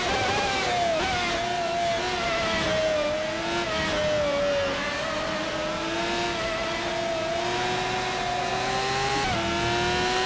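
A Ferrari 412 T2 V12 Formula One car in the rFactor 2 racing game screams steadily at high revs, its pitch dipping and climbing through gear changes, loud and continuous with no talking.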